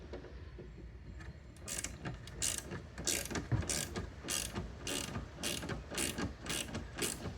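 A ratchet working on Torx bolts at the headlight of a 2001 Chevy Corvette C5, a close, steady run of rapid clicking strokes repeating in an even rhythm.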